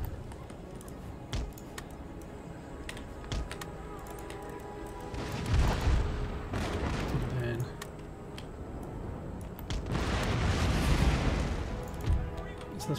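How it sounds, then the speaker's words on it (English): Rocket volleys in Empire Total War, rising whooshing roars that swell twice into long rushing bursts with booms, over a backdrop of distant battlefield gunfire and a narrating voice. "My rockets fire."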